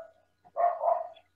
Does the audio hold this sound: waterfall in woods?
no